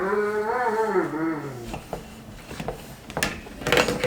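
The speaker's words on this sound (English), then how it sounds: "Do you guys hear a husky mix talking at the door?" A husky mix dog vocalises at the door with a long, wavering howl-like moan, followed by scattered knocks and clatters nearby.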